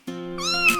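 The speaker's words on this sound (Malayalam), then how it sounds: "മ്യാവൂ മ്യാവൂ മൂളി നടക്കും കുഞ്ഞിപ്പൂച്ച എനിക്കുണ്ട്" A little cat gives a single clear, close meow, drawn out and rising then falling in pitch, alone and with no other sound.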